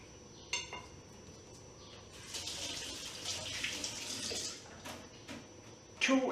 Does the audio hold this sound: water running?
yes